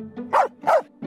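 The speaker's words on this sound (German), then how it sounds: "Ja, ist ein Hund." A virtual dog in the VR game You Can Pet The Dog gives two soft, quick woofs close by, followed by the start of a third, over a faint background hum.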